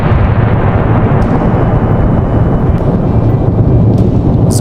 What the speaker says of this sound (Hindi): एक जोरदार धमाका हुआ